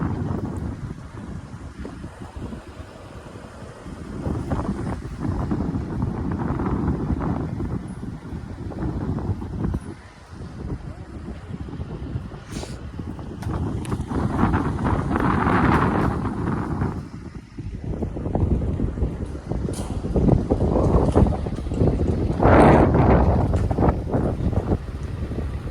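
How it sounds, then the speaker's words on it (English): Strong wind buffets the microphone continuously outdoors in Arizona, a loud roaring rumble that swells and gusts throughout, with no clear voices. "it was so incredibly windy. You couldn't hear anything I was saying"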